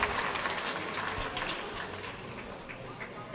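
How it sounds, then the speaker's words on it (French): Audience applause at the opening ceremony of the 24 Heures de Saint-Jo 2023, a steady wash of clapping from a crowd that fades slightly toward the end, with a faint voice underneath. "Applaudissons-le très fort."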